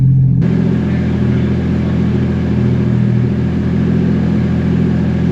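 A car engine held at high revs during a burnout, loud and close, a steady dense roar with a low rumble that stays constant throughout with no speech.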